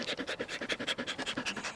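A German Shepherd Coolie cross dog pants close by in quick, even breaths, about eight per second, steady and fairly soft.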